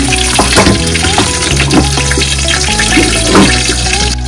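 Milkfish (bangus) frying in hot oil in a large covered pan, with a loud, dense, steady crackle and sizzle throughout and no talk.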